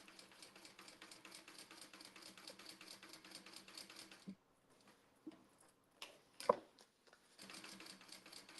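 A sewing machine stitching a seam on a small fabric mini wallet, a quiet, rapid, even ticking run that stops briefly with a few handling clicks, then resumes, with no talk.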